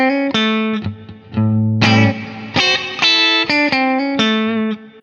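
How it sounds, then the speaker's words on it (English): Electric guitar played through a Line 6 DL4 MkII on a ducking reverb with pre-delay: single picked notes and short chords ring out loud and dry, with a wash of reverb swelling in the gaps between them. "The next one is a ducking reverb where we also have the pre-delay."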